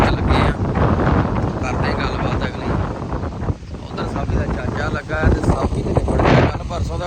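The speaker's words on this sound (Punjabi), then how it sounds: "ਹਵਾ ਬਹੁਤ ਵਗ ਰਹੀ ਆ" Strong wind buffets the microphone in loud, continuous roaring gusts, with a voice speaking underneath, outdoors during combine harvesting work.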